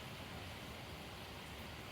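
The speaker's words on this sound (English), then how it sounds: "that rushing water sound shows up on the track" Steady, broadband rushing of creek water in a culvert, constant and unbroken throughout, with a dense hiss filling the whole range and no voices.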